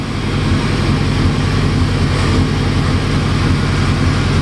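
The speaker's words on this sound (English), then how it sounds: "My dyno makes a lot of noise." A Volkswagen engine fitted with FiTech fuel injection idles on a noisy dyno, giving a steady, loud low rumble with an even pulsing throb that holds unchanged throughout.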